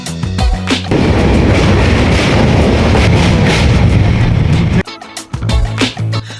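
Sleeper-class coach of the Howrah to Jabalpur express running along the track: a loud, steady, close rolling rumble and rattle that drops away near the end into sparser clanks and knocks.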